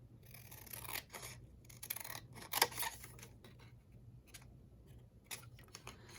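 Scissors cut paper for an envelope pouch, a handful of crisp snipping and rustling strokes up close and quiet, with no talking.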